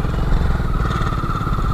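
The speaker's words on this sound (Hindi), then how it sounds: "क्या पता चढ़ जाए, पुरानी बाइक है, सेकंड गियर" An old second-hand Hero Splendor motorcycle labours uphill in second gear, its engine a loud, close, steady throbbing drone with a rough, clattery texture and no talking over it.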